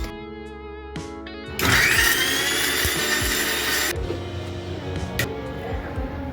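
A kitchen mixer grinder whirs loudly at close range, grinding onion, tomato, garlic and coriander with salt into a green paste, starting abruptly after quiet handling, running a couple of seconds, then stopping.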